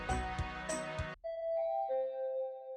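A doorbell chime rings out in a video game: a two-tone ding-dong, clear and moderately loud, followed by a softer sustained electronic tone, with no voices.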